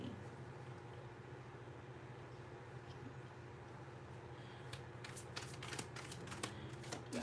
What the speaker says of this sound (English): I gotta be a G to hold my baby and shuffle at the same time.